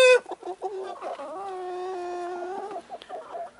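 A fighting rooster gives a few short clucks, then a long drawn-out call, ending with more brief clucks, close and loud with no other sounds.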